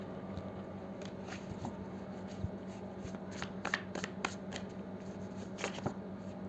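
Tarot cards being shuffled by hand, close and soft, with quick papery riffles and flicks in bursts, a few sharper slaps as cards drop, over a faint room hum.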